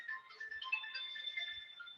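A phone ringtone chimes during an online accounting class, a bright repeating electronic melody that plays steadily and clearly for about two seconds with no talk over it.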